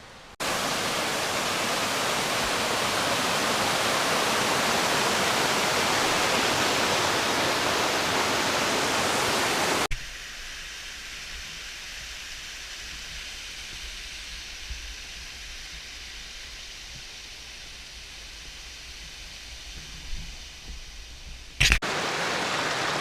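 A White Mountains creek on the Appalachian Trail roars loud and steady, then drops to a softer, quieter flow partway through, with a brief bump near the end.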